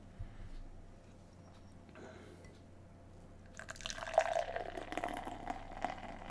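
New England IPA beer is poured from a can into a glass, with faint quiet liquid trickling that grows into a louder, fizzy pour in the second half.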